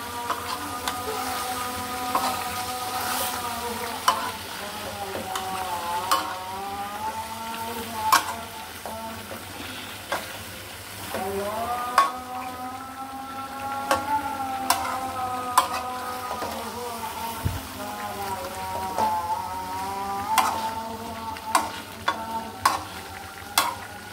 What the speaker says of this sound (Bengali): একটু পরপর নেড়ে দিতে হবে, কারণ লেগে যেতে পারে।